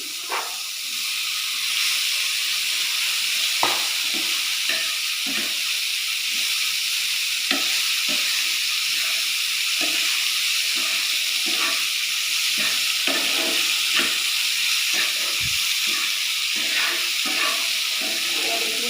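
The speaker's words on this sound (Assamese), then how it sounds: "এতিয়া আমি ইয়াতে দিম সিজাই থোৱা পাস্তাখিনি" Boiled pasta stir-fried in a hot pan gives a steady loud sizzle and hiss throughout, broken by frequent clinks and scrapes of a spatula stirring against the pan.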